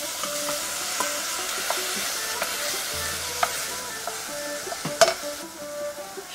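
Chopped onion and tomato with spices and turmeric sizzle and fry steadily in oil, with intermittent light clinks and scrapes of stirring against the pan and no voices.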